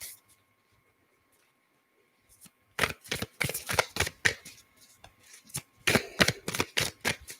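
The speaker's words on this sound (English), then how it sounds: "I'm going to pull Soul Truth cards by Brianna Hovey." Soul Truth oracle cards by Brianna Hovey being shuffled and pulled, heard as a quick run of crisp papery flicks and slaps after a quiet opening, close and fairly loud with no talk.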